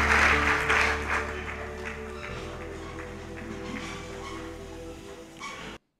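A church congregation applauding and acclaiming the Lord, broad clapping and cheering that swells at the start and then carries on more steadily, mixed with voices, before cutting off abruptly.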